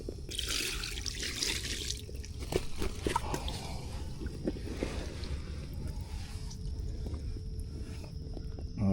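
Water splashes and trickles steadily over a freshly caught ten-pound wild carp, a close, continuous pouring sound with no talk over it.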